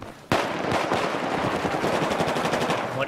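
Sustained automatic gunfire in the video game Battlefield 4 opens after a brief quiet moment and rattles on loud and continuous, with a dense, steady stream of rapid shots and no voices.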